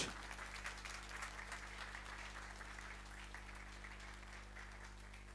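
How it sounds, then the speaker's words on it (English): Faint, continuous applause from a crowd, a steady wash of clapping over a low background hum that gradually softens. "Round of applause, ladies and gentlemen"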